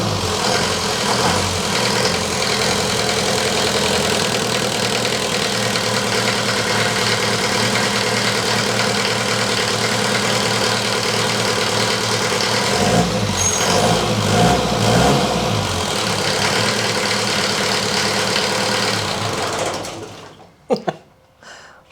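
A diesel truck engine with glow plugs preheated, remote-started and left idling, a steady close rumbling clatter running throughout before cutting off near the end.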